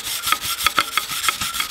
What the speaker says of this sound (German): Wir schleifen das Ganze hier nochmal mit der Stahlbürste runter.